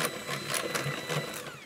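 An electric mixer whirs steadily, beating eggs for a 1929 Scottish Tantallon cake batter with a rice flour mixture to come, a continuous near hum with slight rhythmic pulsing and no talking.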